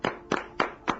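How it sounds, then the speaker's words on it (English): Four sharp claps spaced evenly about a third of a second apart, loud and close, with no talking, from people clapping in unison at a listener appreciation show. "We were all clapping at the same time."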